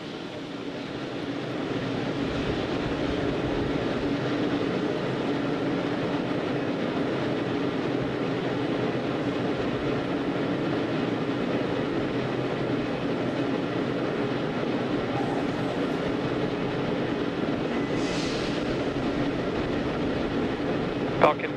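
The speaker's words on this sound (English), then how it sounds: "Gas closeout has started. Expect loud venting." A Falcon 9 rocket vents gas loudly on the launch pad before the Axiom Mission 3 liftoff. A steady, broadband rushing roar holds without pause for over twenty seconds.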